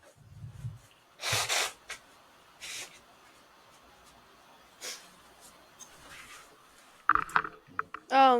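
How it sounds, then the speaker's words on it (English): A person blows their nose in two loud, breathy bursts near the mic, with fainter snorts and sniffs scattered through otherwise quiet stretches and brief talking near the end. "I also had to blow my nose"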